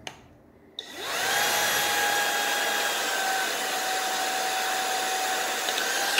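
Shark IX141 cordless stick vacuum switching on after a click, its motor spinning up from near silence into a steady, loud, high-pitched whine with a clear tonal hum that holds close by.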